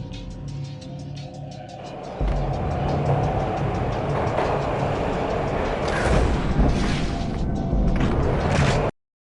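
A train ride in the Max Payne video game: a loud steady rumble and clatter of rail travel, building after a short quieter lead-in, then cutting off abruptly.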